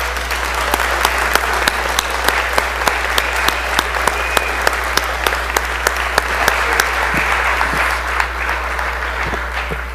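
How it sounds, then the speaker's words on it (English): A chamber of lawmakers applauding a high school state championship football team, a loud, dense and continuous crowd clapping with sharp individual claps standing out, sustained over a low steady hum. "So let's all give them a big round of applause."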